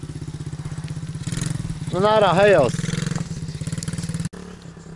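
A motorcycle engine putters in a fast, even rhythm, then speeds up into a louder burst before settling and cutting off abruptly. A person speaks briefly over it.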